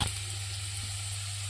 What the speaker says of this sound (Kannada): ಈ ಬೆಳ್ಳುಳ್ಳಿನೂ ಇದ್ರೊಳಗೆ ಹಾಕಿ ಹುರ್ಕೊಂಡ್ರಿ.